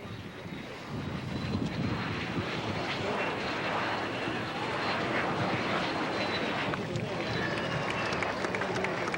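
QSRA short-takeoff research aircraft on a steep, soft landing approach at an air show, a broad steady engine roar that swells slightly and holds, with faint crowd noise beneath.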